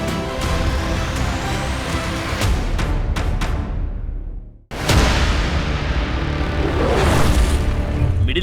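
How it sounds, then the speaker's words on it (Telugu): Explosions and booming blasts from US bomb strikes on Iranian nuclear sites, loud and dense with sharp impacts, a brief near-silent drop midway, then another heavy burst of rumbling detonation. "ఇరాన్ అణుస్థావరాలపై అమెరికా బాంబుల వర్షం"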